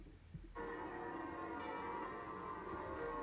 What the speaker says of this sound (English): cathedral bells